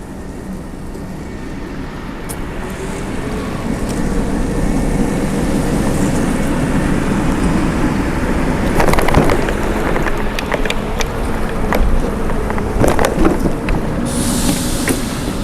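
Pride Mobility Revo 2.0, a heavy-duty three-wheel mobility scooter rated for 400 pounds and up to 5 mph, running at full speed: a steady, close, continuous motor and rolling hum with faint clatter, no talking.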